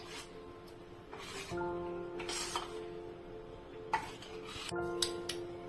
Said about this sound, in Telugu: పైనుంచి కొద్దిగా మామిడికాయ ముక్కలు వేసుకుంటే ఈ విధంగా అంతా ఒకసారి కలుపుకుందాం